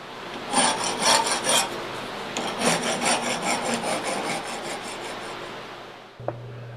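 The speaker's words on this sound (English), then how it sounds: "I usually try to file as much as I can before I cut the piece from the bar" Hand file working a forged iron latch knob still attached to the bar, loud close rasping strokes in a quick back-and-forth rhythm that slows and thins out, ending with a brief metallic knock.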